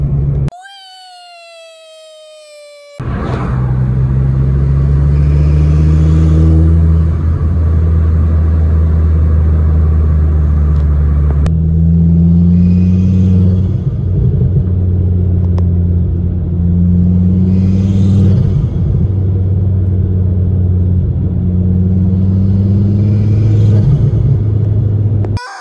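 A Ford Focus ST 225 pulls under boost in fifth gear, its engine a loud, close, sustained low rumble that builds steadily and holds for about twenty seconds after a brief quieter start.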